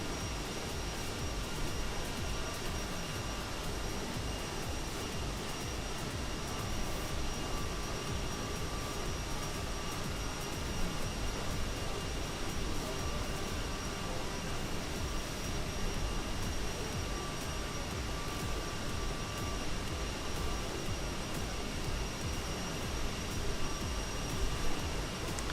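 Steady broadband roar of a light aircraft engine held at full throttle in flight, a continuous unbroken drone with no voices.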